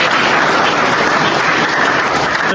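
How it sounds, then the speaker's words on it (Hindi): A school assembly during a road safety week welcomes a visiting transport officer with loud, dense, continuous applause, close up and unbroken. "जोरदार तालियों से स्वागत"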